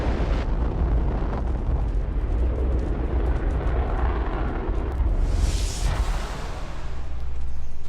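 Engine firing in Fallout 4, a deep continuous roaring rumble with a rushing blast that swells loud midway, sustained and dense with no talk.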